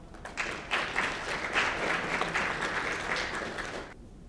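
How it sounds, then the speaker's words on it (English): Audience applause welcoming a speaker at the PyOhio 2024 conference, a burst of crowd clapping that swells quickly, holds steady for a few seconds, then cuts off abruptly. "let's give him a round warm applause"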